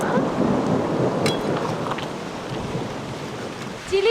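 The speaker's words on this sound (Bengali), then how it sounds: "মেঘ ডাকছে দেখো" Thunder rumbles outdoors under a gusty wind, a continuous low, rolling roar with buffeting wind noise on the microphone that swells slightly toward the end.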